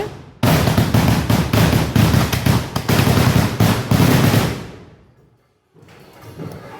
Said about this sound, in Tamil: வெடிமருந்து எல்லாம் ஃபில் பண்ணிவிட்டு எத்தனை பேர் ரெசிப்ட் வச்சுருக்காங்களோ அத்தனை பேருக்கு ஏற்ற மாதிரி வெடி வைப்பாங்க